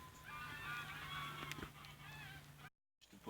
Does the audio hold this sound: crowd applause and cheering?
no